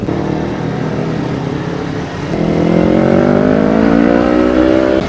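A motorcycle with an aftermarket racing exhaust idles loudly nearby, then revs up into a sustained, rising exhaust roar that holds steady to the end.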